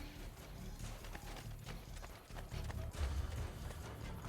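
Horse hooves clip-clopping in Assassin's Creed Brotherhood, a steady galloping rhythm of fairly quiet hoofbeats over a rumbling background.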